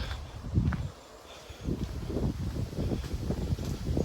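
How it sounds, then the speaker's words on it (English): Low, gusty wind buffets the microphone outdoors at Lochwinnoch, Scotland, rising and falling in steady rumbling waves with no voices. "It's a wee bit windy here."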